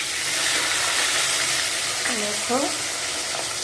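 Pomfret fish frying in hot oil, a loud, dense, continuous close sizzle filling the moment, with a brief spoken word and a short tonal squeak over it.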